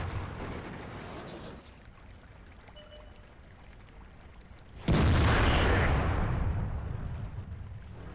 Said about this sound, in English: he gets hit by a huge shell from maybe the Jagdpanzer E-100